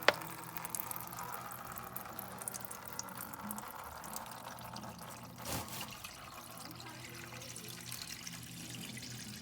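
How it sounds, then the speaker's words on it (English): Engine oil pours from the drain plug of a 2021 Toyota Sienna into a drain pan under the car, a steady, faint liquid trickle and splash with one brief louder burst partway through and no talking. "I moved the drain pan so that it's just on the edge so I can catch the oil coming down"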